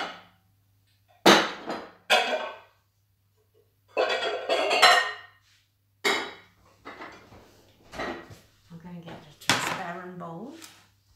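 Bowls and dishes clattering and knocking as one is taken out in a home kitchen, several sharp separate clanks and thuds spaced over several seconds, interleaved with speech.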